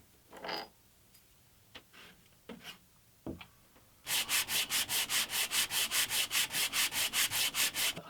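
A thin shim is sanded on a homemade drum sander: a few faint scrapes and taps first, then a loud, steady run of rhythmic rasping pulses from the spinning drum, close up and without speech.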